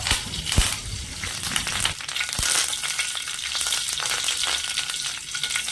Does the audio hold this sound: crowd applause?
no